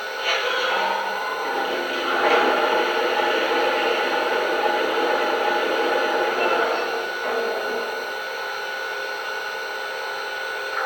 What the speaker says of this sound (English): here is the sound of water being added to the tender.